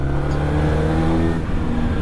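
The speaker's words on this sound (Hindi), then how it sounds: "अब ये चौथे गियर में ना, अभी देखना चौथे पे उठाता हूँ ये वहीं से" A 2024 Harley-Davidson 400cc twin-cylinder motorcycle pulls in fourth gear, its engine a loud, steady drone close by that eases slightly near the end, with no talking.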